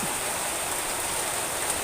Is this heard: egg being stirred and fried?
no